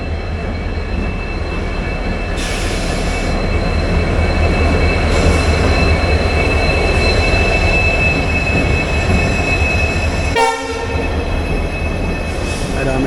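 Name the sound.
diesel locomotive train departing station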